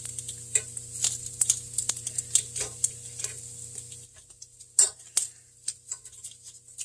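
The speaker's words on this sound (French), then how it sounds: "Le bacon végé ne semble pas cuire très vite." Vegan bacon cooks in a pan with a light, crackling sizzle broken by sharp ticks and taps, apparently from a utensil, and a steady hum that drops out partway through.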